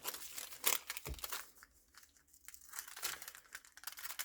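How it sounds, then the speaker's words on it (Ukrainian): Scissors cut through a paper sewing pattern for a bodice, giving close, faint crinkling and snipping with paper rustling between the cuts and no talk over it. "Наприклад, я ось так її розрізаю, відрізаю цю чашку вже."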